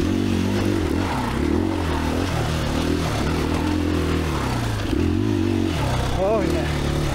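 A 2021 KTM 500EXCF dual-sport motorcycle rides a trail at Johns Peak OHV, its engine droning steadily with shifts in pitch as it revs and eases off, heard close throughout.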